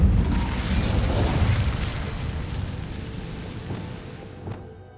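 Incendio fire spell cast in Hogwarts Legacy, a loud roaring blast that bursts out at once and slowly fades over several seconds, ending in a faint crackle.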